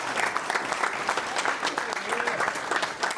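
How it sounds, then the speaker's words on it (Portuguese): Church congregation clapping together during a sermon gathering, a dense, steady patter of many hands at close range that runs the whole time with no pause. "vamos aplaudir"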